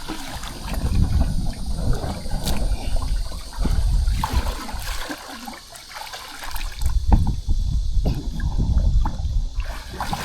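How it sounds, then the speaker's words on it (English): Water runs and splashes steadily while a canoe is rinsed out after a river trip on Florida's Peace River, with gurgling, trickling flow and a brief lull midway. "Rinsing out this canoe."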